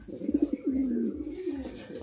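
Fancy pigeons in a loft, including large Lahori Sirazi birds, give a few close, soft throaty coos, one rolling call after another, with quiet background murmur.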